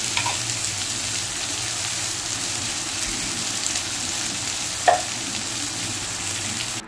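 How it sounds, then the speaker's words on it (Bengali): Chopped onions frying with spices in a pan, a steady sizzle with occasional stirring, including one sharper scrape near the end. "পেঁয়াজটাকে ভালো করে নেড়ে চেড়ে সমস্ত মশলার সাথে মিশিয়ে নিলাম"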